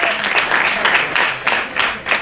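Crowd applause at a local football match as a player leaves the pitch, loud and continuous clapping in uneven waves that rise and fall for a couple of seconds.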